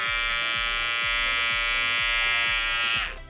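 A Xiaomi MSN T3 electric shaver runs with a steady, harsh, rattling buzz, loud and close, alone, then cuts off abruptly near the end.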